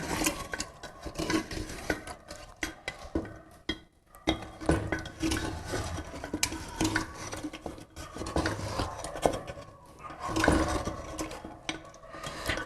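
Marinade masala for biryani is mixed in a clay matka with continuous scraping, rubbing and clinking of a spoon against the pot, busy and close with brief pauses.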